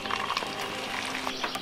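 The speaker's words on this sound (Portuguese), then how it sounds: "Pegar o linguado e colocar para dourar na frigideira" Sole fillet set to brown in a frying pan, skin side up, giving a steady close hiss of sizzling oil with faint crackles throughout.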